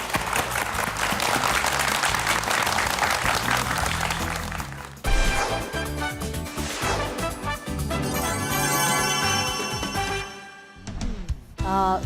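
A studio audience applauds loudly with sustained clapping that briefly drops and then swells again before fading out, with no talk over it.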